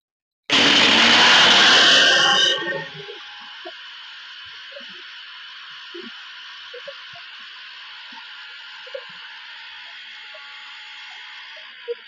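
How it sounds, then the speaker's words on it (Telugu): A kitchen mixer grinder whirs loudly for about two seconds while grinding cardamom pods into powder, then drops to a thin lingering hum with a few faint clicks. "ఇవి మనము మిక్సీకి వేసుకునేద్దాం"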